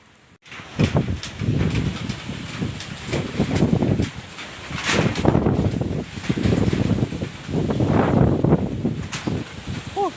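Gusty outdoor wind rushes and buffets the microphone in repeated surges beside a 200-litre drum stove, loud and continuous with brief breaks.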